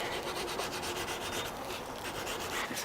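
Steady rubbing of 220-grit sandpaper across the edges of a carbon fiber Starboard 95 cm foil mast under repair, a continuous close scratching with rhythmic back-and-forth strokes and no talking.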